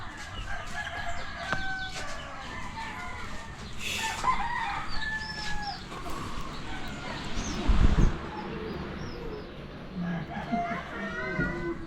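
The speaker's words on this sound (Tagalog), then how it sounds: "Ay, manok ko." Chickens cluck and a rooster crows in a busy outdoor yard in Bulacan, Philippines, with people talking and children's voices mixed in throughout.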